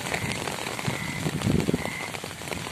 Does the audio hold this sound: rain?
yes